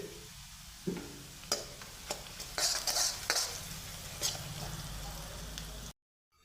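Onions fry in a pan as turmeric and a pinch of asafoetida are stirred in, giving a soft, steady sizzle broken by scraping stirs and a few clinks, ending abruptly in silence.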